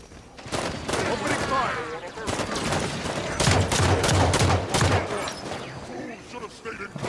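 Heavy bursts of gunfire from a gun in the shooter game Halo 5 crack repeatedly and close, clustering into dense volleys with short gaps between them, while voices talk in the background.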